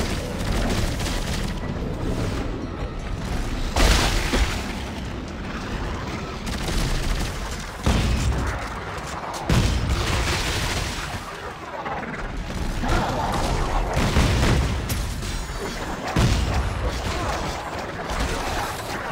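Gunfire and heavy impacts in the Dead Space 3 video game, repeated sharp shots and booming crashes in uneven bursts, with brief pauses between volleys and faint talk.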